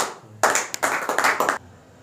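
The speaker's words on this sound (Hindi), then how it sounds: "उनके सम्मान में आप लोग जोरदार तालियां बजाएं।" A short burst of audience applause at a public talk, many hands clapping together for about a second before fading.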